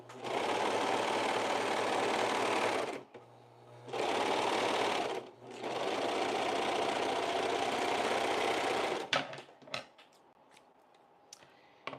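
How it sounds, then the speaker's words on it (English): A sewing machine stitches a skirt in fast, even bursts, running about three seconds, pausing, then running again for several seconds before stopping amid a few small clicks and handling noises. "Okay, gonna sew again."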